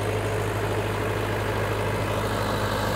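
A Mahindra 585 tractor engine runs with a rotavator working soil, a continuous loud low diesel rumble that holds steady throughout, close by, no talking.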